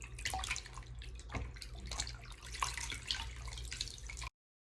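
Warm water runs steadily from a tap into a sink as part of a home face-mask skincare routine, a continuous close splashing hiss with no talking.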